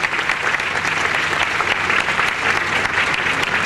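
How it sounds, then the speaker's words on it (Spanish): An audience applauds a short documentary's award at the Lima film festival, a dense, sustained burst of clapping filling the room at an even loudness. "Aplausos por favor para Mauricio Godoy y el documental cortometraje Ciudad Manjar"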